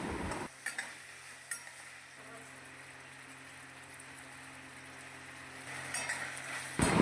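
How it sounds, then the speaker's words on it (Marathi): Onion and tomato sauté in a pan, a soft low sizzle with scraping stir strokes and a few light clinks of the spatula at the start and end. "टॅमॅटोचं पाणी सुखेपर्यंत आपल्याला परतून घ्यायचे थोडेसे नरम झाले पाहिजे कांदा आणि टॅमॅटो"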